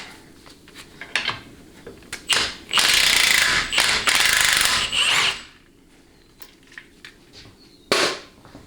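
An impact wrench works on stubborn, moisture-affected bolts of a 4L60E transmission during a teardown. Scattered clicks lead into a loud, sustained rattling burst lasting a few seconds, then a quieter pause and one final short burst, all close by.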